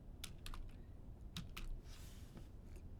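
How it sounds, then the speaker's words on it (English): Typing on a computer keyboard while working in a spreadsheet: a few quiet, close key clicks spaced irregularly, with a soft rustle between them and no speech. "anytime I want to type something, I can type A, hit enter"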